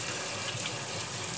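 Tap water runs steadily over fruits and vegetables being rinsed in a sink, a continuous close hiss with no breaks.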